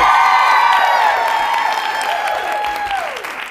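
A loud studio audience applauds and cheers together, with dense clapping that stays strong and slowly fades over a few seconds, no talking over it.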